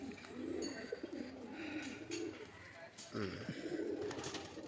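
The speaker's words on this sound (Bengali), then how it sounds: "এই হচ্ছে পায়রা।" Pet pigeons at a loft in Sankrail, Howrah, coo in soft, throaty, repeated rolling calls, close by and steady, with faint background noise.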